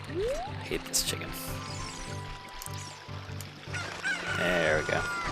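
A chicken in Zelda Ocarina of Time squawks and clucks in bursts over game music and effects, growing louder toward the end, while a person talks over it.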